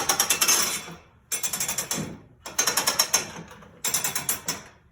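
A loom handle is pulled to batten the weft, producing rapid loud ratcheting clacks in four close bursts, each with a quick series of mechanical clicks.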